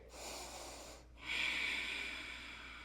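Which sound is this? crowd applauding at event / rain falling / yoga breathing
yoga breathing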